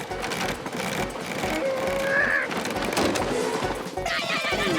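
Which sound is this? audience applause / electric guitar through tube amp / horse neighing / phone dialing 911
horse neighing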